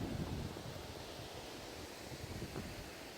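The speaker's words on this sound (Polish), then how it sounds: "Wieje duży wiatr." Steady, broadband wind roar that buffets the microphone continuously throughout, with no voices.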